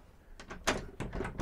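A door in the garage compartment of a Rapido 604F motorhome opens, giving several short clunks and rattles in a quick series, close by with no talking.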